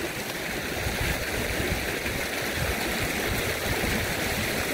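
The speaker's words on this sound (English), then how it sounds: "What a beautiful river." The Bulkley River flows past a mountain valley in a continuous rushing wash of moving water, steady and fairly close, with no talking.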